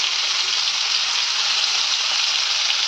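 Pieces of pointed gourd and potato fry in oil with a bright, even hiss of sizzling that stays loud and steady, close by and with no voices.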